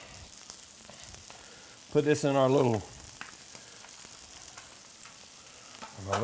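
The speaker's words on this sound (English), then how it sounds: "That chicken just a sizzling away." Steady sizzling and frying crackle of chopped chicken in a pot runs throughout, with a brief burst of speech near the middle and another voice starting at the end.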